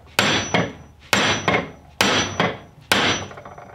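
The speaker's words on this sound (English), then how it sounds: "taking a screwdriver, placing it in that groove, and then hitting it with a hammer" Four pairs of hard, close hammer blows on a screwdriver driving out a stub axle shaft on a Dodge vehicle, at a steady pace, each a sharp crack with a quick decay, no talking.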